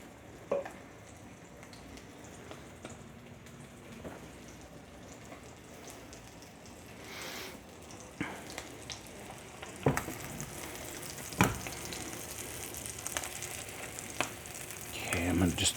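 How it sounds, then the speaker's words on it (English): Parmesan-crusted tilapia fillets frying in a pan over fairly low heat, a soft steady sizzle throughout with occasional clicks and clinks of utensils, growing slightly louder toward the end. "So we'll let that fry."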